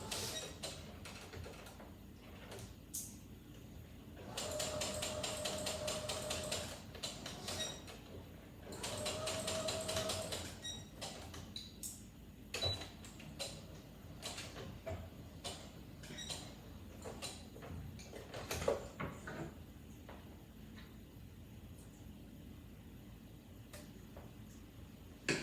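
A sewing machine runs in short bursts as it stitches fabric forward and back to lock the seam, a quiet mechanical whir between clicks and handling noises, with no voices.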